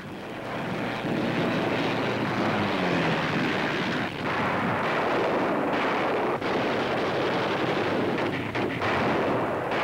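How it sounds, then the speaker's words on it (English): Loud, continuous roar of American warplanes attacking during a beach invasion, with rumbling blasts mixed in and no letup throughout. "American planes roar to the attack, driving the Japs from the sky."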